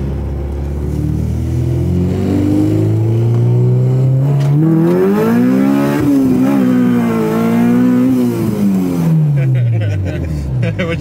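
A Honda K20-swapped EK hatchback revs hard and pulls through first gear, the engine note climbing steadily, holding high, then dropping away as it lets off, loud and close throughout.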